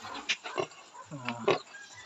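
A sow that has just given birth grunts and oinks up close, a few short snorting bursts and one longer low grunt, with no talking.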